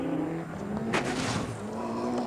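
Seat rally car on the 1997 Network Q Rally of Great Britain super special stage at Silverstone, its engine droning steadily with a brief sharp burst of tyre or gravel noise midway.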